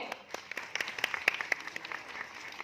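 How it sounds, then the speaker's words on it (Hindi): A small audience on a tour at Bollywood Park in Mumbai's Film City gives quiet, scattered applause: sparse individual claps popping irregularly at a modest distance, thin rather than a full ovation. "जोरदार तालियां हो जाए खुद के लिए।"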